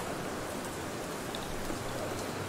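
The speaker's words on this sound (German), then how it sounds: "Aha, jetzt regnet es hier draußen." Rain falling outdoors in the Grimtales video game, a constant soft, even hiss of rainfall with no voices, steady throughout.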